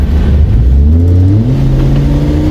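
An LS-swapped 5.3 square-body Suburban with a cam and a 6.8-liter V10 Ford Econoline E-Series high-top camper van accelerate side by side in a roll race, loud close engine roar rising in pitch steadily.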